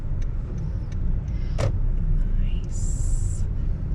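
A car engine idles low and steady while the vehicle pulls over to park, a constant rumble under the cabin with a few brief electronic beeps and chimes on top.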